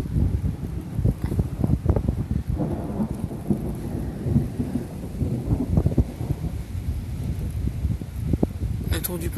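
Low rumbling thunder after a nearby lightning strike rolls on and off beneath a steady wash of rain and wind during a storm in Rhône-Alpes, France, with scattered gusts buffeting the microphone.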